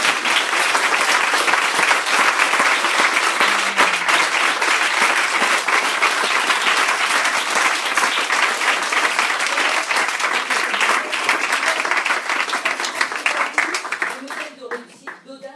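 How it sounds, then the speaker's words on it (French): A large audience applauds speakers at a masterclass event, dense sustained clapping at strong level for most of the stretch before thinning and fading out near the end. "je vous propose de les applaudir."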